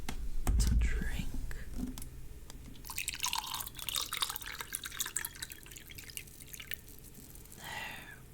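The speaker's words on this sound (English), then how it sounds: "let's pour some more to drink" A drink poured into a glass, a trickling, splashing stream of a few seconds that is close and louder than the soft whispering around it.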